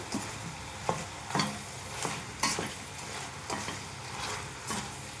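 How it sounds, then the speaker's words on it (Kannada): A spoon stirs salt and turmeric through sizzling food in a frying pan for vangibath gojju, with soft, evenly spaced scraping strokes over a constant close hiss of frying. "ಸ್ವಲ್ಪ ಅರಿಶಿನ ಸ್ವಲ್ಪ ಆಡಿಸ್ಬಿಟ್ಟು"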